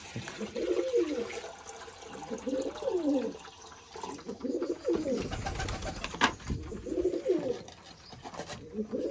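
Pigeons coo repeatedly in low, throaty rolling calls while feeding on grain, several bursts in a loose rhythm, close by, with a brief splash of water in between.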